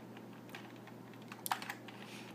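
Several quiet, close key presses on an Altair 8800 terminal keyboard, scattered clicks with a small burst near the middle, over a faint steady hum and no talk.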